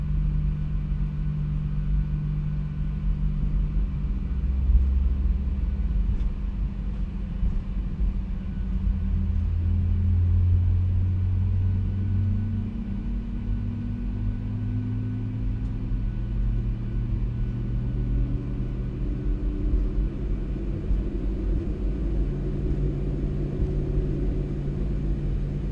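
A low, steady engine rumble slowly builds and shifts in pitch as a Boeing 737-800 jet engine spools up in a flight simulator, continuous and droning throughout.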